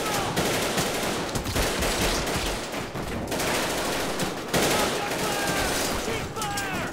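Sustained automatic gunfire rattles in rapid, dense bursts during a Battlestar Galactica episode, loud and continuous with brief pauses, while voices shout underneath.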